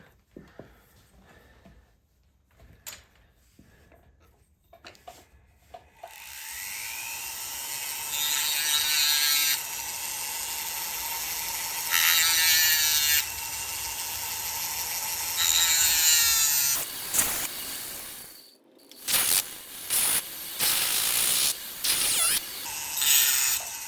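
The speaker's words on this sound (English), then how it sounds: "So I'm going to use a cutoff disc to cut around here." A cutoff disc grinds into a soft pewter insert inside a double-walled candlestick nozzle, giving a loud, sustained high whine in several long passes broken by short pauses, after a few quiet clicks and taps at the start.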